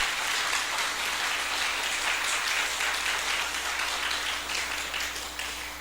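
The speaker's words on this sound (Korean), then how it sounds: "다시 한번 뜨겁게 큰 박수 해주시기를 바랍니다" A church congregation at a Sunday morning service applauds warmly, a sustained, even roar of many hands clapping that holds steady throughout and tapers slightly at the end.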